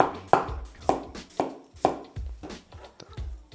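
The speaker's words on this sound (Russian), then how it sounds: "Также нарезаем лук." Repeated knife chops through onion on a cutting board, about six sharp thuds in an uneven rhythm, close and fairly loud with no talking.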